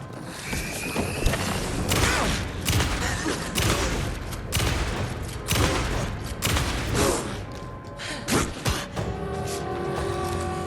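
Gunfire in the video game Alan Wake 2, heard as a run of loud, sharp shots in irregular bursts over a dense, rumbling game background, with no talking.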